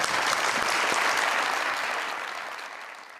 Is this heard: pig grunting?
no